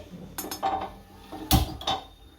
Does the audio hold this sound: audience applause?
no